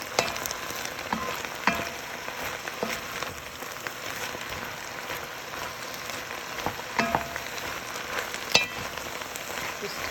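Pepper steak vegetables frying in olive oil in a pan, a steady close sizzle and crackle with intermittent scraping and clatter from stirring.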